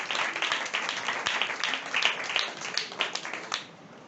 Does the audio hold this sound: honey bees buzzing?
no